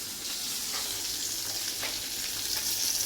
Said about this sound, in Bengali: এদিকে মাছ ভাজা বসিয়েছি, ভোলা মাছ করবো সর্ষে দিয়ে।